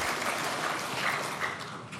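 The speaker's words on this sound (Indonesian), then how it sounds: "Mas Dias, tepuk tangan untuk Wamen LHK." Audience applause at an Indonesian political party event, dense, even clapping from a large crowd heard alone, steady throughout.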